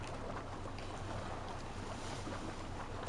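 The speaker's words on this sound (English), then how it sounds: "this water doesn't kill me as I swim anymore, so I decided to swim" Swimming through open water in Assassin's Creed Valhalla, a steady wash of splashing and lapping waves with wind noise, even and continuous throughout, no voices.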